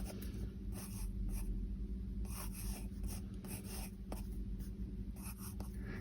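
A pen draws flowers in a small A6 sketchbook, making faint, close scratching and scribbling strokes in short bursts over a steady low background hum.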